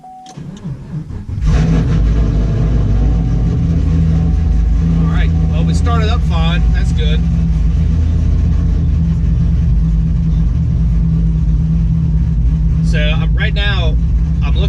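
A supercharged 2015 Chevrolet Camaro SS fitted with a new blow-off valve cranks and fires, then settles into a loud, steady, rumbling idle that runs on close by, with a voice talking briefly over it.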